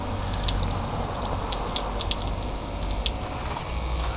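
Hot water runs steadily from a Camplux BW158BC portable water heater inside a micro camper van, a continuous close splashing stream with light droplet patter and a low pump hum underneath.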